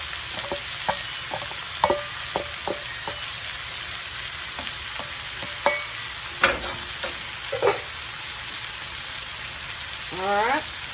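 Cabbage fries in a skillet and gets tossed and stirred, giving a soft continuous sizzle broken by scattered scraping clicks and a couple of louder stirring clatters near the end.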